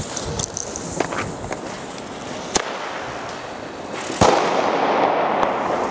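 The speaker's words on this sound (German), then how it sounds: "Und wir machen weiter mit dem Original, den Weco Flashing Thunder." Weco Flashing Thunder firework tube going off outdoors, a rapid crackling series of sharp bangs and pops with two louder reports standing out over a hissing burn.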